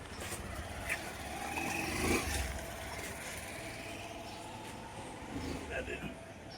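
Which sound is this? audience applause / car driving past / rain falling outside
car driving past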